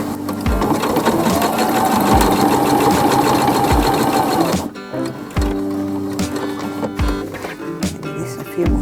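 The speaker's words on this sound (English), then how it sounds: "I was hoping I wouldn't have to do more quilting all the way down, but it looks like I do." Sewing machine quilting a peacock quilt, its needle running in a loud, steady whir for about four and a half seconds, then stopping and restarting in short bursts punctuated by low thumps.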